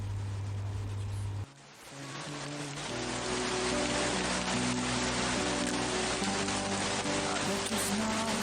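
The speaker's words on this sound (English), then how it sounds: "The sound of rain needs no translation." Rain falls in a dense, continuous hiss that stays even and fairly loud, with a sustained musical tone running beneath it.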